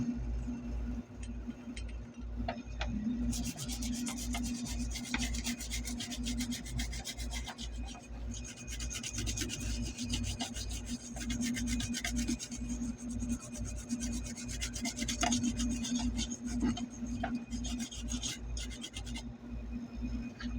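A floor-mounted air conditioner's indoor circuit board is scrubbed clean with thinner: fast, close scratching strokes run almost without pause over a low steady hum.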